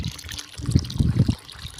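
Water from a borewell pours intermittently onto a field, a few short gushing bursts of liquid splashing close by, stopping and starting.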